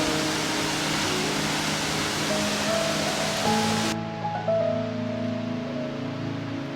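A waterfall beside a hot spring in Bechler Canyon, Yellowstone, pours as a steady broadband rush. Sustained musical tones play over it, and the water noise becomes muffled partway through.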